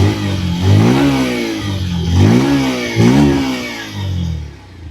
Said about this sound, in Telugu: ఇంకా ఒకసారి ఇంజన్ నోట్ విందాం.